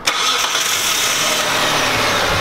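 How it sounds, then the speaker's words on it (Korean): A gasoline or LPG car with its intake hose detached from the throttle body cranks and catches, then settles into a steady, close engine hum with a broad hiss. "자, 시동을 걸어주세요."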